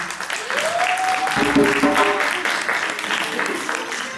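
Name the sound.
audience applause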